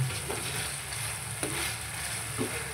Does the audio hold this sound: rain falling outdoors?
no